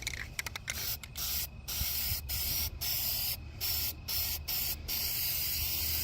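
Bed liner sprayed from a spray gun into a metal wagon, steady close hissing bursts that start and stop repeatedly with brief gaps between passes.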